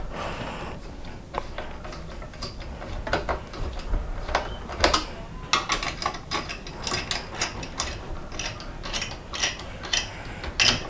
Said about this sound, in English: So maybe just screw it down